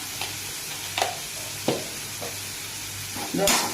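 Ingredients sautéing in a pan for mango mor kuzhambu, a low steady sizzle punctuated by a handful of distinct spoon scrapes and taps, close by, with no talking.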